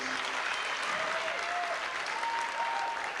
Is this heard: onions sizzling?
no